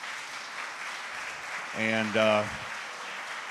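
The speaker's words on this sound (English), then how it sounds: "give them a round of applause." A conference audience at an AI week event applauds in a steady wash of clapping, and a voice briefly speaks over it partway through.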